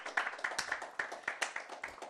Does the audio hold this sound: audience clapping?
yes